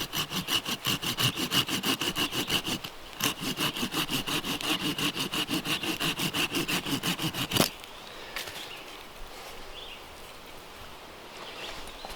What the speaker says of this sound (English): so I cut this little piece of stick